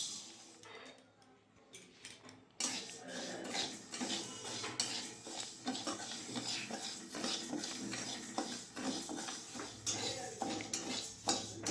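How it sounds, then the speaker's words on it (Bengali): A utensil scrapes and clatters against a metal wok repeatedly as dry lentils are stirred and fried, with a faint sizzle underneath. "কড়াইয়ের মধ্যে দিয়ে দেবো ডালটা"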